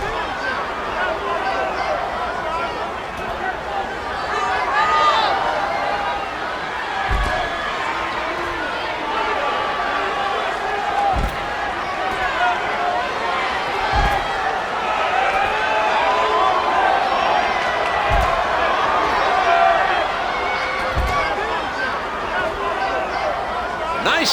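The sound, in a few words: crowd cheering in video game WWE 13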